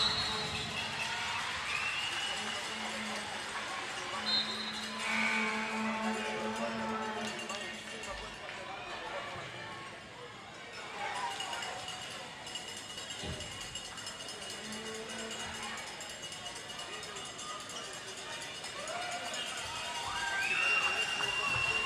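A crowd roars and cheers steadily throughout a Canada Games women's basketball game between Manitoba and Newfoundland and Labrador, a dense, sustained wash of voices that swells and dips, with occasional sharper shouts and squeaks rising above it.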